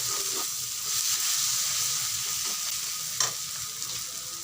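Peas and tomato go into sizzling chicken in a pan, producing a steady close hiss of frying with occasional scrapes and knocks of stirring, and no talking.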